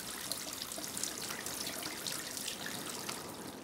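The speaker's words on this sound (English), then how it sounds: "Give it a quick rinse under cold running water." Cold tap water runs in a steady, even hiss and splash as crayfish are rinsed under it at a kitchen sink, close and continuous throughout with no talking.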